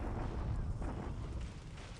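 Rumbling explosions from an artillery bombardment in the War in the Pacific strategy game, a dense, continuous low booming roar held at steady loudness for the whole stretch, with no voices over it.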